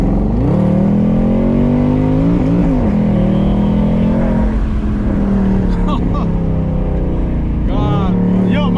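A stock Mercedes C63 AMG with a 6.2L V8 is floored from inside the cabin, giving a loud, continuous roar that climbs through the revs with a shift partway through and people talking over it.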